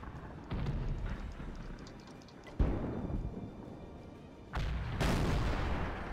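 Booming artillery fire in a tank video game, a few heavy blasts with one sharp impact near the middle and louder bursts toward the end, over a constant low rumble.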